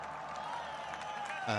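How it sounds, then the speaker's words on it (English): A cricket crowd at Rawalpindi Cricket Stadium during a Pakistan versus Sri Lanka match keeps up a steady murmur and applause beneath a commentator's voice, swelling near the end. "Crowd building up here at Rawalpindi Cricket Stadium, and Pakistan in charge."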